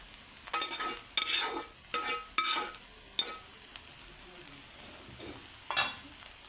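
Vegetable fried rice with fried eggs being stir-fried in a pan, with several sharp scraping and clattering spatula strokes at irregular intervals over a faint background, no talk.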